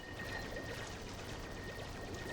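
Water pours into a reservoir in Oxygen Not Included, a steady, even rush of splashing liquid that holds at the same level throughout, with a faint tonal hum beneath it and no talk.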